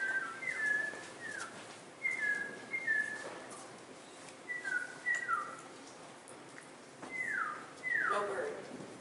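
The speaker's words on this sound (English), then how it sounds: "Look, listen. There's chirping outside." Birds chirp outdoors, giving short, bright whistled calls that slide downward, in quick pairs and small clusters repeated across the moment, at moderate distance over a soft background hiss.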